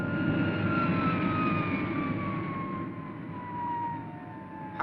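Jet-like whine with rising and falling siren-style tones as the Supercar, a fictional flying car in a TV puppet series, switches to vertical flight; a steady loud roar with no speech.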